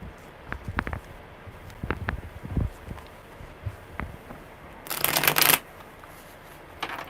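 Tarot cards being shuffled close by in quick riffling bursts, ending in a loud, dense riffle followed by a couple of soft taps.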